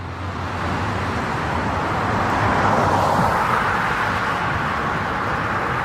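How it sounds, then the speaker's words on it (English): Steady roar of passing cars and a truck with broadband tire noise on a road near Santa Monica Airport, continuous and fairly loud with a slight swell mid-way. "I mean, these cars aren't quiet."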